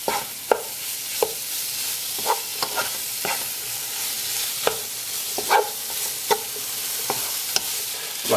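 Pieces of lamb coated in spices are stirred in a hot frying pan, with a steady sizzle underneath and repeated scraping clicks from the spoon at an uneven rhythm.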